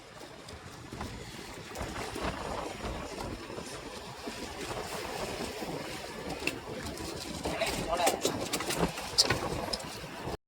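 Sea waves slap and wash against a small fishing boat out on open water. A continuous rough, splashing roar is mixed with wind buffeting the microphone and swells louder near the end.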